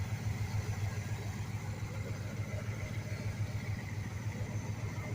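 A V8 car engine with its fuel line clamped idles on, a faint, steady low rumble with an even pulsing beat throughout.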